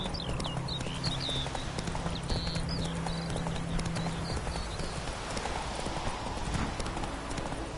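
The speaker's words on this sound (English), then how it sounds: "Whoa there, Roach." Horse hooves clip-clopping steadily in The Witcher 3: Wild Hunt, a brisk rhythmic gait beneath light chirping ambience, fairly quiet and without speech.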